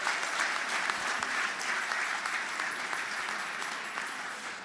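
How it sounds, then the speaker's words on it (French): A church congregation at a revival night service claps hands together in praise, a dense, sustained wash of applause from many people filling the room, steady and loud throughout. "Clap your hand for the Lord."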